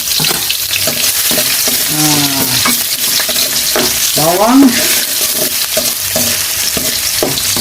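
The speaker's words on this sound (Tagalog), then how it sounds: "Okay, so magigisa na tayo guys. Lagyan na natin yung bawang." Garlic sautéing in a hot pan for corned beef sinigang, a steady broad sizzle with stirring scrapes throughout, under a few faint vocal sounds.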